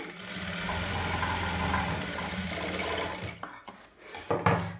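A normal sewing machine stitches a saree fall, a close, steady mechanical whir with rapid ticking needle strokes that runs for several seconds, then stops and briefly restarts.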